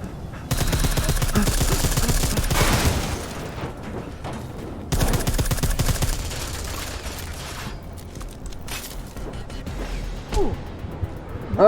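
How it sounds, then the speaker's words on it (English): Sustained automatic gunfire from an unseen, invisible enemy in Deus Ex: Mankind Divided, loud dense bursts for several seconds, a pause, then another long burst, followed by scattered impacts and clatter. "That's the guy shooting me from invisibility."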